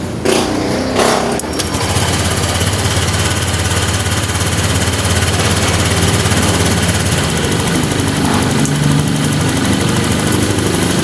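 A Honda Click motor scooter engine starts briefly, then runs at a steady idle, loud and close, with a constant buzzing drone.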